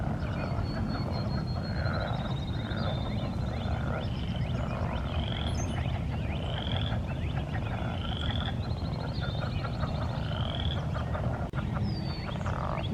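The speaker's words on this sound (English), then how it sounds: "I hear a lot of frogs." A dense chorus of frogs croaks and trills from a small pond in Iroquois Park on a spring morning, loud and continuous, with repeated higher calls rising over a constant low outdoor rumble.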